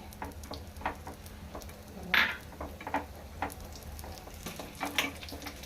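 Mustard seeds, cumin, fenugreek, urad dal, garlic and chillies tempering in hot oil for an Andhra coconut peanut chutney, a soft steady sizzle with scattered faint pops and crackles close by.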